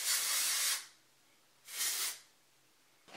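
Hair texturizing spray hisses out in two close, steady bursts, each under a second long, with the start of a third burst cut short at the end.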